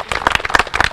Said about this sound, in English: let's please give a round of applause for all of our funders and sponsors